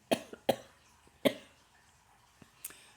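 Several short, soft coughs from a person with a cold come at irregular intervals, quiet and fairly close, with near silence between them.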